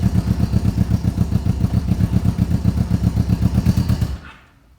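A cold street motorcycle fitted with a hydraulic clutch idles with a rough, loping, pulsing beat, close and fairly loud, then stalls and cuts out abruptly into near silence.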